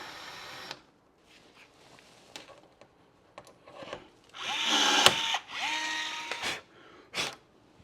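A drill with a 1/8 inch bit bores a hole in a RIMOWA Classic Cabin carry-on luggage shell, heard as several short, close motor bursts with quiet gaps between them.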